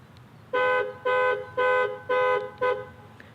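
A 2018 Dodge Challenger SXT's panic alarm sounds its horn in five evenly spaced loud honks, each about a quarter second long, with no voices over them.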